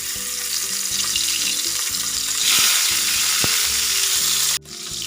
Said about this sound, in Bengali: তেল গরম হয়ে গেছে এবার মাছগুলো সব ভেজে তুলব